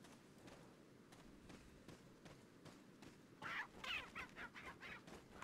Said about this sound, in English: You stay over there, Mr. Chicken.